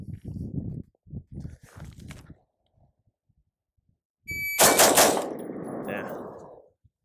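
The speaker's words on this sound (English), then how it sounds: "So now we're gonna do a three shot grip." A rapid burst of gunshots from a pistol fitted with a Timney DH3 trigger cracks out loud and close, the blasts running together into a ringing roar that slowly fades, after a few quiet thuds.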